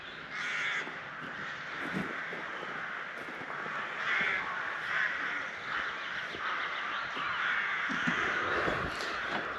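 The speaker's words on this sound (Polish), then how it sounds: "jakieś wrony po prostu są, że przyjechaliśmy, strasznie się drą" Crows caw loudly and repeatedly around the ruins of an old granary at a palace estate in Bychawa, their harsh overlapping calls filling the air continuously with no talk.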